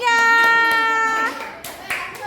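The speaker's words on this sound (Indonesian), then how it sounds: "Beri tepuk tangan untuk kelompok 3." Primary school classroom applause for a student group, a short burst of clapping from children that follows a sustained tonal note, with a voice heard and the clapping fading into scattered claps.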